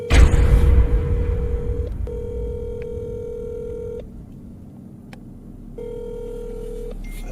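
A telephone rings unanswered in repeated long tones with pauses between rings, sounding fairly close, with a low hum and some background noise underneath and no talking.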